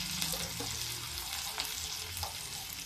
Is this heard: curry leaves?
yes